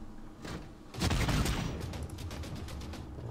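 Units in Civilization VI shoot at a robot, with a loud volley of gunfire erupting about a second in and rattling on as a burst of rapid shots over the game's background sound.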